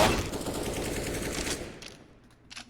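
Rapid bursts of AK rifle fire in a Counter-Strike match, loud and dense for about a second and a half, then fading to brief faint shots.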